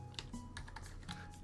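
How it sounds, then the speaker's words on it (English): Quiet keystrokes clatter on a computer keyboard in an uneven run of separate taps, close and soft, with no one talking. "I'm typing Spotify and Spotify."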